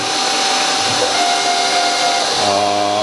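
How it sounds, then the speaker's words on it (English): A milling machine cutting metal with a 1/4-inch four-flute end mill at 2000 RPM and 0.250-inch depth of cut, with coolant, giving a loud, steady, unbroken tonal whine and hiss from start to end. "1/4 inch end mill, 4 flutes, 2000 RPM"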